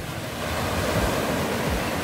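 Sea waves wash onto the beach at Prainha in Arraial do Cabo, a steady rushing surf with a swelling crest near the middle, close and fairly loud with some wind, no voices.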